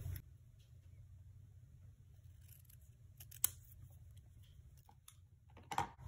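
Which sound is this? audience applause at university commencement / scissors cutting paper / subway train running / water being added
scissors cutting paper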